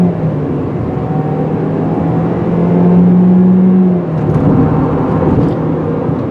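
A 2018 GMC Terrain engine revs up slowly and steadily under acceleration, heard from inside the cabin as a loud, sustained rising drone with some road noise, then easing back slightly near the end.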